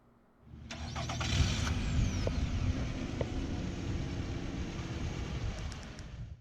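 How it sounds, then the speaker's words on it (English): A 2018 Nissan Rogue SL AWD engine cranks and catches after a remote start, then settles into a steady, moderately loud idle rumble, heard from close by with no talking. "press and hold the remote start button"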